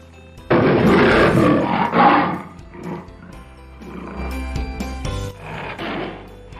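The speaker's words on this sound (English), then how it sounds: "Sound of tiger is growl." A tiger growls and roars in deep, rumbling bursts: a loud opening snarl, a second roar, then lower throaty growls, close and alone.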